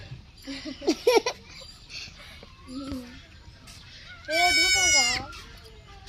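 A goat kid gives one loud, wavering bleat near the end, after scattered voices and a brief giggle at the start.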